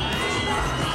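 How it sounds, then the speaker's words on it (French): A large crowd cheers an Olympic torchbearer on the Paris 2024 relay, a dense, loud, continuous roar of voices with no break through the brief moment. "la foule t'acclame"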